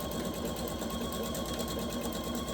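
A sewing machine runs continuously, stitching fabric strips together for a quilt, with a fast, even mechanical whir and needle chatter at close range and no talking.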